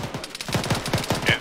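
Rapid bursts of rifle and automatic gunfire from a military firefight in ArmA 3, a steady rhythm of sharp cracks at mid distance, with no talk over them.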